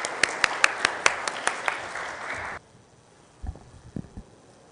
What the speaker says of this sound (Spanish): lo recibo con un fuerte aplauso